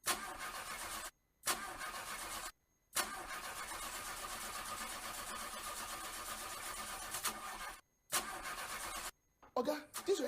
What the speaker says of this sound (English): this your engine don't kaput